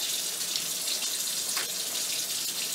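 Running water from a tap during a surgical hand scrub with 2% chlorhexidine, a steady close splashing flow with no talk.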